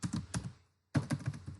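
Computer keyboard typing in two quick bursts of several keystrokes separated by a short pause, close and moderately quiet, with no voice.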